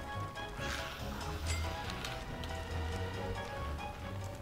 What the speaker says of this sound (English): This rain is brutal.